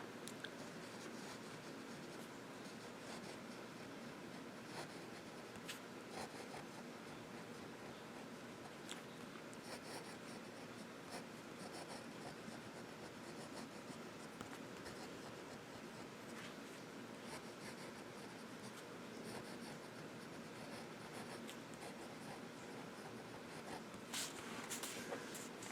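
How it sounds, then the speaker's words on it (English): A Papermate fountain pen with a gold-plated nib writing on paper: faint, continuous scratchy scribbling for about twenty-five seconds, close but very quiet, with occasional small taps and no voices. "So let's do some writing."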